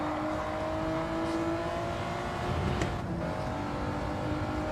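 Car engine in a racing video game holding a steady, droning note under a constant whir, with the pitch drifting slightly and no clear sharp revs.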